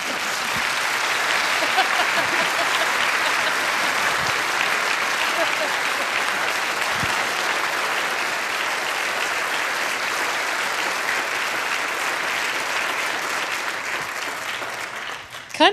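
Audience at a Redding candidate debate applauding steadily, a dense, even wash of clapping that holds for about fifteen seconds at moderate volume.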